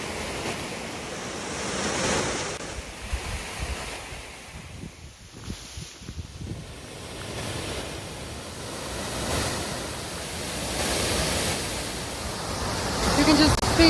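Rushing mountain water near the Eiger in the Swiss Alps between Wengen and Mürren, a steady broadband roar of waterfall and torrent with wind buffeting the microphone, continuous and fairly loud throughout.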